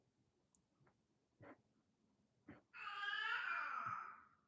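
A cat gives one drawn-out meow after a few faint soft bumps and clicks, the cry rising and then falling as it fades, close and fairly clear against a quiet room.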